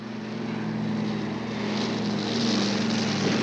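A propeller airplane drones overhead in steady flight, a loud continuous engine hum with a strong low tone and a rushing airscrew wash that swells slightly toward the end, with no talking.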